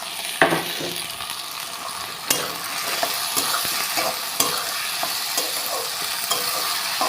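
Onions, then potatoes and chilies sizzling steadily in a home kitchen pan, a continuous crackling hiss broken by a few sharp clinks and scrapes of a stirring spoon, fairly close with no talk.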